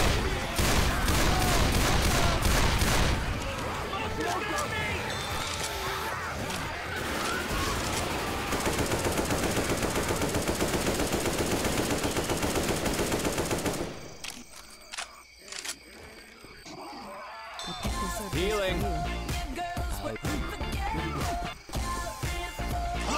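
Gunfire in Left 4 Dead 2: rapid automatic bursts rattle loudly and continuously, then drop to scattered shots and clicks after a brief lull before firing resumes, with players talking over it.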